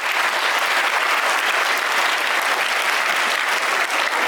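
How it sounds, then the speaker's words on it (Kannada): A school audience applauding steadily at a school program, dense clapping from many hands filling the room without a break. "ಅವಳಿಗೂ ಒಂದು ಜೋರಾದ ಚಪ್ಪಾಳೆ ಬರಲಿ."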